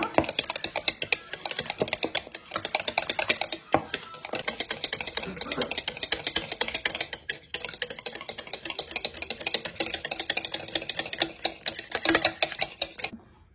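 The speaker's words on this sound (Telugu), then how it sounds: "సో యోగర్ట్ వేసేసి మిక్స్ చేసేస్తున్నాను ఇలా." Quick, steady clicking and scraping of a utensil beating yogurt into eggless pancake batter in a bowl, close and rhythmic with brief pauses throughout.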